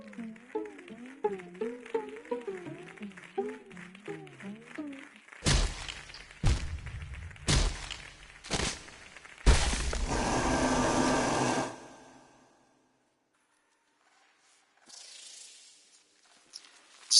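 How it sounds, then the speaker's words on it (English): Heavy bludgeoning blows in Hollow Knight: a few loud, dull impacts land in quick succession, followed by a harsh crunching burst over soft game music, then near silence. "despite that distinct sound of bludgeoning"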